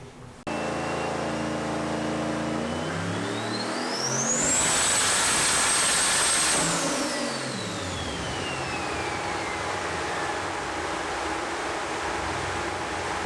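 An 1100 whp turbocharged street Chevelle with full exhaust runs a dyno pull. The engine roars and climbs steadily to a loud, screaming peak with a high turbo whine, then winds back down, with no talk over it.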